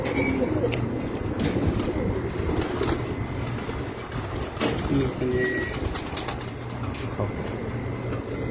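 Rooftop pigeons coo in low, repeated murmurs beneath a steady broadband rumble, with scattered faint chirps and clicks throughout.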